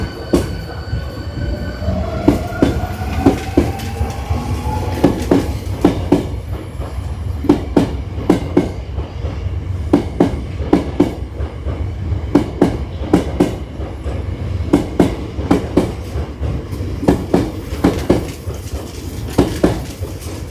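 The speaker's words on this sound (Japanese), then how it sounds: "電車が出します。 危険ですので電車から離れてご通行ください。" A rapid or express train pulls out of Osaka Umeda station, its wheels clacking over rail joints in a quickening rhythm, with rumbling carriages and brief metallic squeals, loud and close on the platform.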